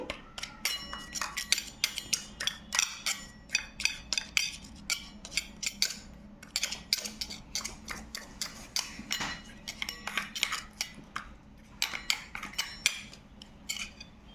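A spoon mixes fenugreek powder and honey in a steel bowl, making rapid, repeated metallic clinks and scrapes in an uneven rhythm that runs almost continuously, close and moderately loud.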